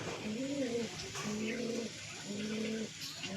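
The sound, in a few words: pair of pigeons cooing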